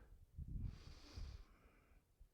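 A single deep breath drawn in slowly and effortlessly through the nose, soft and close, with a gentle airy rush that swells and fades over about two seconds.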